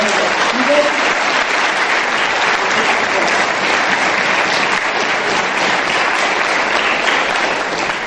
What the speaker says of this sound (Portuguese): Vamos aplaudir o casal aqui, por favor.